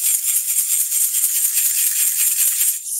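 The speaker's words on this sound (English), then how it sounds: "that's my big tambourine." A large homemade tambourine with bottle cap jingles and a duct tape handle is shaken close up in a fast, steady rhythm, giving a bright, continuous metallic jingling with no voice over it.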